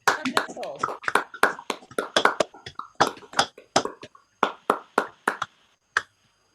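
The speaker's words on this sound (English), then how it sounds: "So please unmute yourselves and let's all clap each other." Sparse, uneven clapping from an online poetry audience, scattered individual claps from separate participants rather than a unified round, close and intermittent, thinning out toward the end.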